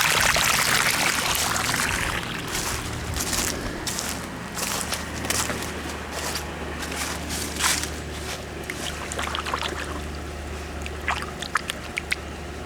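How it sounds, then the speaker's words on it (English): Dirty brown water from a bead filter backwash pours out in a continuous splashing stream close by. It carries a steady gurgle and scattered sharper spatters, and no voice is heard. "Here again, you'll see all the funk coming out of there, the dirty water, dirty brown water."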